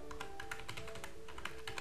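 Quick typing on a computer keyboard, a close, busy patter of key taps over a steady electrical hum.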